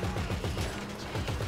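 Gunfire in Grand Theft Auto Online during a car ramming attack, a rapid string of fairly loud shots that runs unbroken and stays in the foreground.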